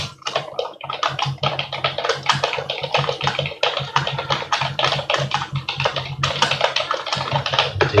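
Fast, steady typing of words on a computer keyboard, a dense run of close, crisp key clicks with brief pauses, while working in Microsoft Word.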